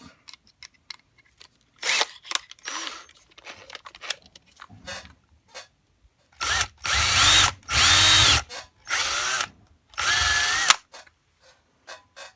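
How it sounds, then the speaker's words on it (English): Power drill boring a larger hole through a guitar body for a kill switch, several loud bursts of whirring drilling with short pauses between, after quieter handling clatter. "Now get a little bigger drill bit."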